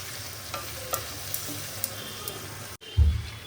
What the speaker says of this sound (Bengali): হলুদ দিয়ে একটু ভাজা ভাজা হোক